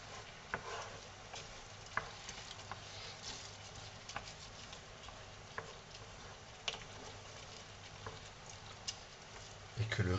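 White wine added to risotto rice in a hot pan gives a faint, steady sizzle with soft patters and occasional stirring ticks, ending in a brief louder scrape.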